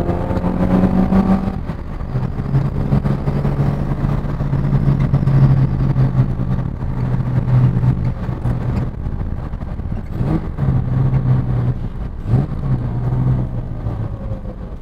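A Jaguar race car prepared for the Goodwood 76th Members Meeting idles with a steady, close, low engine drone, with slight revs and brief mechanical knocks partway through.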